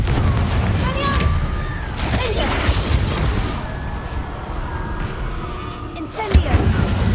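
Repeated Confringo blasting spells exploding in Hogwarts Legacy, a series of loud booming bursts and crashes spread through the stretch, ending with a sharp louder blast, with a voice speaking over parts of it.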